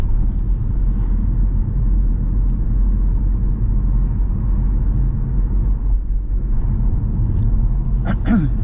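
Car driving along a residential housing-estate road, a steady close low engine and road rumble heard from inside the cabin, continuous throughout, with a brief squeak near the end and no clear talk.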